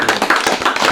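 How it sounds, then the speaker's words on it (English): A few people clap together for about a second at the close of a podcast, a quick run of close, sharp hand claps with no voices over them. "We're clapping it up for the Sumners."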